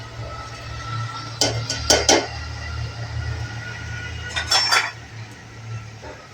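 Rice going into a cooking pot for a paneer pulao with peas, heard as two clusters of sharp metallic clinks and scrapes against the pot over a low steady hum.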